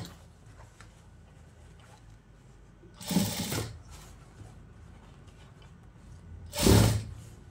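A sewing machine stitches a silk skirt blouse in two short loud bursts, separated by quiet pauses with faint handling noises, close to the listener.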